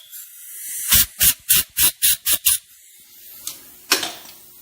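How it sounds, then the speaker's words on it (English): Compressed air blowing metal shavings out of freshly cut threads on a John Deere mower repair: seven short, loud, evenly spaced hissing bursts close up, then a pause, a faint puff and one more burst. "Just gonna hit it with a little compressed air and get all the shavings out"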